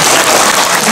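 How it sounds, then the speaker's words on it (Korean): A short burst of dense, steady clapping from an audience in a district office auditorium during a lecture, loud and close, with no voices. "모든 분들에게 박수 한번 보내주십시오"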